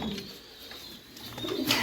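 Pigeon cooing near a pigeon loft, soft repeated low coos over a quiet background, moderately close with no talking.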